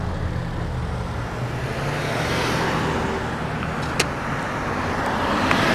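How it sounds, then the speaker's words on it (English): A sedan rolls past a cyclist in city traffic, its engine and tire noise blending into a steady, fairly loud roar of road and wind noise that holds for several seconds with no voices. "There's a sedan behind me too, so I'll let him go."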